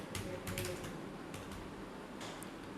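Typing on a computer keyboard, a quick run of faint soft key clicks in small bursts with short gaps, alone in a quiet room.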